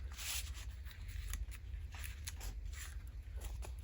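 Scissors snip through paper in a series of short, quiet cuts at an irregular rhythm, close by against a faint low hum.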